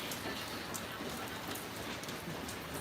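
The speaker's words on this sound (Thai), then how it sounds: "ตอนนี้ฝนตกแล้ว" Steady rain pours down in Mukdahan, Thailand, a dense, continuous patter of drops on a hard surface with no pauses.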